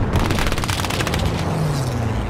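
Grenade blast in an online shooter game, a booming burst with crackling debris and rapid gunfire chatter around it, dense and loud throughout the short moment.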